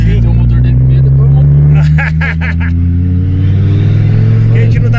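A turbocharged Fiat Marea engine revs hard and strong, its loud, steady drone rising in pitch as the car accelerates. Voices talk over it throughout.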